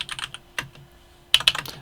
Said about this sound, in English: My typing is getting worse.